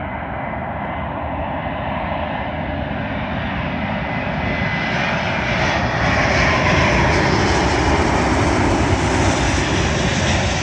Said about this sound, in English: Arriving in now is a Qatar Airways Airbus A350-900, working a service from Doha to London Heathrow.